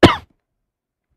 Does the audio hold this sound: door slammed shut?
no